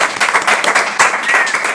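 Loud, close applause from an audience at a talk on Basque comics, brisk dense clapping with a few sharper individual claps standing out, continuing steadily to the end.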